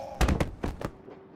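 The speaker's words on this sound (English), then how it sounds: "Hope no one heard the explosion." Explosion in the adventure game Lost Horizon: a cluster of sharp, loud blasts in quick succession, then a fading rumble.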